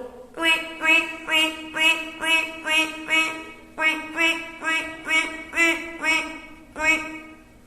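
A voice imitates a duck in a school arts festival mimicry performance, letting out a quick string of about a dozen nasal quacks in a bouncy, steady rhythm, fairly close.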